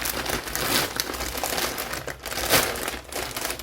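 Plastic packaging around a parcel of cream is pulled open, a close, continuous crinkling and rustling that carries on through the whole short stretch.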